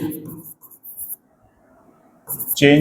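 Chalk or marker scratches across a board during a thermodynamics lecture, short bursts of writing strokes with a quiet pause in the middle and a voice speaking at the end.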